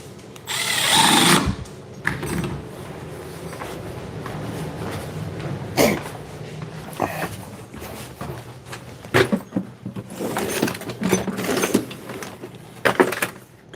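Two cordless impact drivers, a Milwaukee M12 Surge and a DeWalt, race each other in loud, high-pitched bursts of whirring, some overlapping, separated by short pauses and clattering handling noises.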